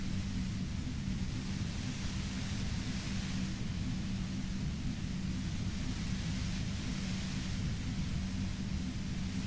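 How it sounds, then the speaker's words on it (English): Steady, unbroken white-noise static from the Disco Elysium video game, a dense hiss with a heavy low rumble underneath, loud and even throughout with no speech. "You hear through the white noise."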